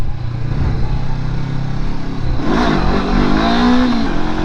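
A Triumph Rocket 3 motorcycle engine revs loud and close, holding a deep throaty drone and then surging higher as the bike lifts its front wheel.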